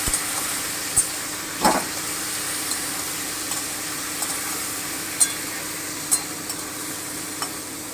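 Chicken pieces frying in a pan for capsicum chicken, a soft steady sizzle and hiss with a few sharp clinks and scrapes of stirring scattered throughout.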